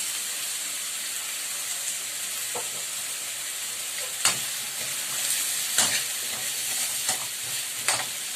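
Leftover yellowfin fish sizzles steadily in hot oil as a pinakbet is cooked, a continuous close frying hiss broken by a few sharp crackles and stirring scrapes, with no voices.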